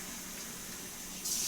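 Two cups of water being poured for minute rice into a Pampered Chef rice cooker, a short steady hissing pour that gets louder at the end, with no talking.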